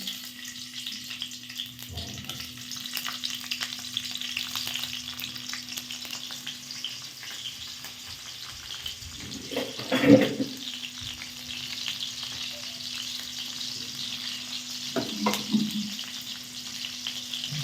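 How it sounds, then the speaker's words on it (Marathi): Green chilies fry in a teaspoon or two of oil for sabudana khichdi, a soft continuous sizzle with a steady hum beneath and occasional louder bursts of crackle and stirring. "मिरची छान फ्राय करून घ्यायची"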